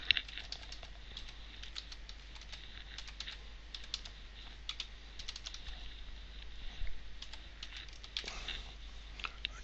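Close-miked computer keyboard typing, irregular runs of quick keystrokes with brief pauses and occasional louder key hits, typed while building a presentation slide; no one speaks.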